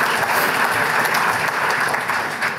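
A conference audience bursts into full, steady applause, a dense wash of clapping that sustains loudly throughout.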